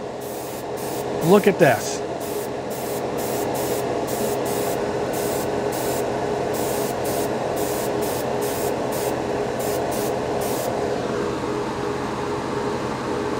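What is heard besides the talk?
Paasche H series airbrush spraying Tamiya paint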